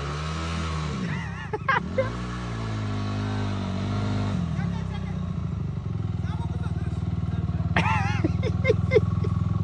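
A Honda motorcycle engine drones steadily close by, its pitch rising as it revs and passes, while people shout and talk excitedly over it.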